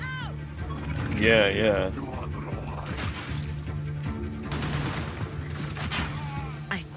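Gunfire bursts from a tactical turn-based video game where shots are aimed and fired, heard as sharp cracks and volleys under game music and a man's chatter.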